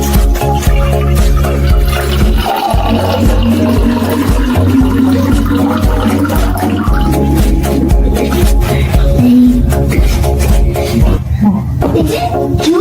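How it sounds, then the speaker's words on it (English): Water pours into a thermos with a loud, close, continuous rushing gurgle that keeps going without a break. "Water pouring into a thermos is the mystery sound."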